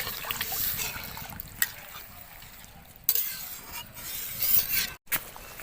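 Water being poured into a pan of curry with potato chunks for magur fish curry, with splashing and trickling, a few sharp clinks of metal or glass, and short pauses between pours.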